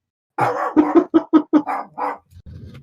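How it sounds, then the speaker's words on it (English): A dog barks in a quick run of about eight sharp, loud barks close by, followed by a low grumble, with no talking. "There's my doggy going crazy."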